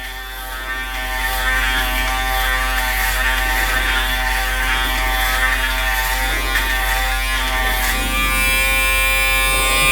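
An Aberlite Touch 2 electric head shaver runs continuously on the back of the head, a close, loud, steady motorized buzz with a low hum, with no voices over it.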